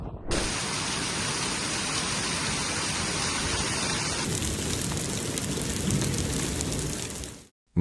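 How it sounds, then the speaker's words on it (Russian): Heavy rain pours steadily in a thunderstorm over the Minsk region of Belarus, with hail possible, a dense continuous roar that stays loud and constant before cutting off abruptly near the end. "Непогода, сопровождаемая грозами, сильными ливнями и крупным градом, обрушилась вчера на Минский регион в Беларуси."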